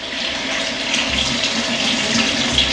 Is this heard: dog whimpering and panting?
no